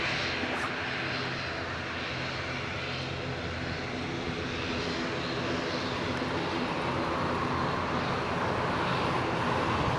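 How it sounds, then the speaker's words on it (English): A Jet2 Boeing 737-300 taxiing at Leeds Bradford Airport, a continuous droning engine whine heard from a distance, steady and unbroken with no voices. "another Jet2 73300 taxiing along"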